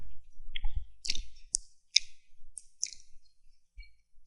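A computer mouse clicks about eight times with irregular gaps, each click short, crisp and close in an otherwise quiet room.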